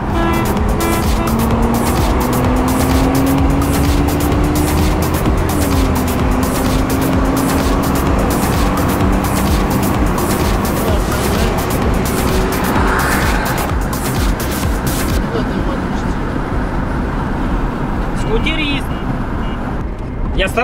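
Turbocharged Volga car launching hard from about 4000 rpm, a loud sustained engine roar with rising pitch and tire squeal, fading toward the end as a voice talks over it.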